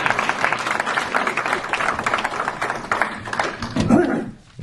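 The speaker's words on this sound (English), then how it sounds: "Now you can clap." Audience applause at a candidates' debate for warden in the Pontiac, a dense, steady wash of clapping from a crowd that fades out near the end.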